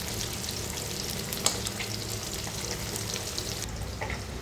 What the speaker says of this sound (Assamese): ইলিছ মাছ বেছি ভাজিলে অলপ কমকৈ ভাজিলে মানে খাবলৈ টেষ্টি বেছি হয়।